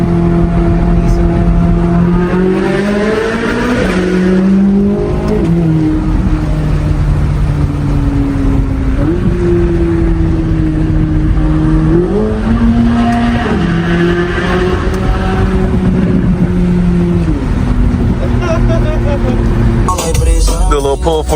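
A 2026 Corvette Z06 engine roars inside a tunnel, loud and reverberant, its pitch climbing and dropping through repeated gear pulls over about twenty seconds, with talk faintly mixed in.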